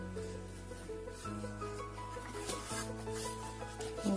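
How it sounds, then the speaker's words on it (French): Cardboard for a box is folded along scored lines pressed with a ruler, giving soft close rubbing and scraping sounds over a steady low background hum, brief and faint. "mettre la règle, appuyer et plier bien correctement chaque petit trait"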